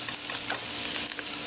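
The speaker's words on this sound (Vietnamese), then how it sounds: "Bây giờ mình sẽ đi chiên cái tỏi này cho nó vàng" Chopped garlic frying in oil in a pan, a dense continuous sizzle with faint crackles and spatters, close and steady with no talking over it.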